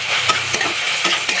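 Guar bean pods sizzle as they sauté in a hot pan, with a spatula scraping and stirring them in quick, repeated strokes over a continuous frying hiss.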